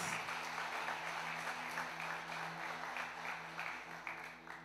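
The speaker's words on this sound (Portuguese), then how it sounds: "Você pode dar um aplauso ao Senhor por esse dia?" Church congregation applauding, a steady, moderately distant patter of many hands clapping together that holds for several seconds without a break, with faint speech underneath.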